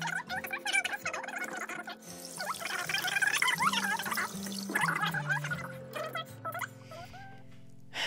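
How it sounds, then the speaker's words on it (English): Vegetables for homemade kraut are rinsed and handled in water, with sloshing, splashing and gurgling at close range, continuous for several seconds before tapering off. "I'm going to now wash all these vegetables and clean my surface."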